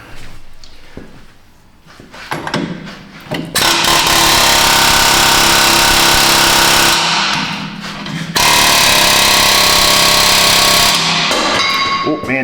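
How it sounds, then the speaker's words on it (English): An air hammer rattles against the rear axle backing plate of a 2012 Jeep Wrangler, loud sustained pneumatic chattering in two long bursts separated by a brief pause, after some quieter clanking at the start. "We're going to rattle it with the air hammer."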